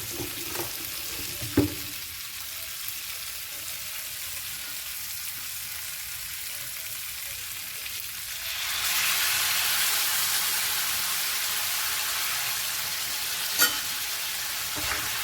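Mutton frying in a pan, a steady close sizzle with occasional stirring clicks that swells into a louder, brighter hiss partway through.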